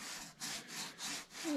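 A Woodmizer LT10 band sawmill cuts through a knotty fruit tree log, its blade making a steady, close hissing rasp that swells and dips in about four strokes. A low thud comes right at the end.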